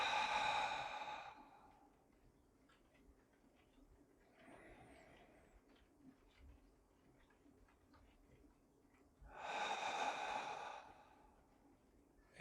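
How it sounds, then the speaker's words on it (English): Slow, audible exhales through the mouth during a gentle hatha yoga class: two long breathy sighs about nine seconds apart, a fainter breath between them, soft and close in a quiet room. "breathing out of the mouth."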